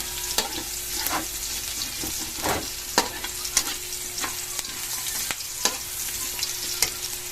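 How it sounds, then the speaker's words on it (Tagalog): Guavas sautéing in leftover fish-frying oil for a Filipino bitter gourd dish, with a steady close sizzle and repeated sharp scrapes of a spatula stirring the pan throughout, and no voices. "nagigisa lang dito mga kabayabas sa pinagprituhan po natin ng isda"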